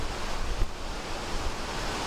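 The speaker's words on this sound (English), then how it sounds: "It's just so windy" Strong wind rushes through Kentucky woods during a spring turkey hunt, a constant roaring buffet that also batters the microphone, with no other sounds rising above it.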